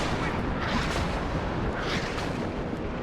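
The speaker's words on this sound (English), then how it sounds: "That's some nasty rocket artillery." Rocket artillery in WARNO pounds continuously as a dense, rumbling barrage of blasts and rolling booms, loud and sustained throughout without pause.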